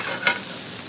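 Sausage frying in a cast-iron skillet, a steady close sizzle with one brief scrape of stirring as it is broken up, no talk.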